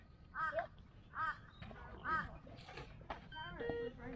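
Crows caw outdoors near a rocky coastline, with three harsh, evenly spaced calls close by, then a few fainter calls and other rustling noises.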